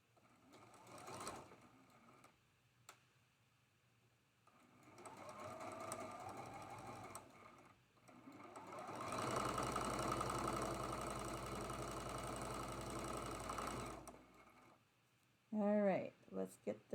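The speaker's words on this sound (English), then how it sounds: "we're gonna sew that seam, the last seam for this block, from edge to edge" A sewing machine sews a quilt block seam edge to edge in two steady runs, the second one longer and louder, with a voice speaking briefly at the end.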